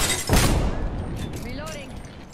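Gunfire in a video game, a dense burst of shots near the start followed by fainter firing, with a voice talking over the game sounds.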